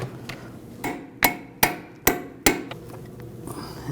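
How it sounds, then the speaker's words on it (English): Several sharp metallic hammer taps on the tie rod and bellow boot of a 2006-2009 Audi S4 during suspension work, a short irregular series of close, loud strikes with quieter knocks between. "Just hammer that on a little bit."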